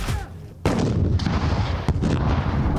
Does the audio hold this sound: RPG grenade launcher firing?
yes